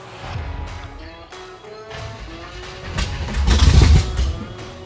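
Engine of a 1955 car cranking and sputtering as it tries to fire, uneven chugging that catches and swells into a louder rev near the end, close by.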